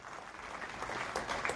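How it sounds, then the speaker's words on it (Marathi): Audience applause at an award ceremony for a state-level inter-regional drama competition, a soft, fairly distant patter of many clapping hands that swells slightly toward the end. "आणि लटपटे साहेबांनी त्या टीमसाठी आपण सर्वांनी त्या टाळ्या वाजवा"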